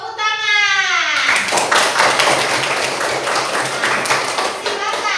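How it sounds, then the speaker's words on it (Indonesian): A class of children claps hands together in a classroom during a science lesson, a dense, close round of rhythmic clapping following a short sung or chanted phrase, with children's voices mixed in. "Ya, tepuk tangan."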